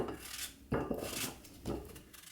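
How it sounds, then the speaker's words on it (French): A knife cuts an apple finely into small wedges, making three soft crisp slicing strokes spaced about a second apart, close and quiet, with no talking. "Et je la coupe donc finement en petits quartiers."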